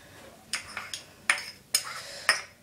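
A utensil stirs a clumping glue mixture for homemade flubber in a bowl, making a series of sharp scraping knocks and clinks about every half second, close and fairly quiet.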